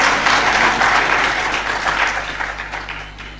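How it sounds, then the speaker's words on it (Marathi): Crowd applause at a political speech in Parner, a dense steady burst of many hands clapping that fades slightly toward the end, with no talk over it. "टाळ्या वाजवा ना मग."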